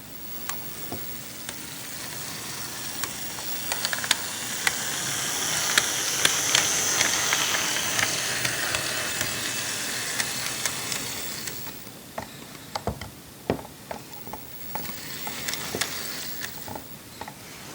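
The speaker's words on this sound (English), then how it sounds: "So now we'll put it in reverse." A ScaleTrains SD40-2 model locomotive in CSX livery runs in reverse on DC, giving a hissing, sizzling motor whir with scattered rail clicks and ticks. It quiets briefly around the midpoint, then more clicking follows.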